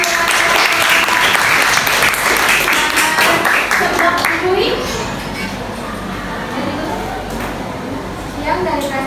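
A classroom audience of students applauds after a presentation, loud sustained clapping mixed with children's chatter and voices, easing off slightly midway but continuing to the end.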